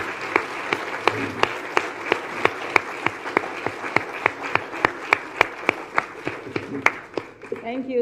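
Clapping at an International Anti-Corruption Day event, following a speech on women fighting corruption: evenly spaced, distinct claps in a slow, regular rhythm continuing for about eight seconds, with faint background murmur.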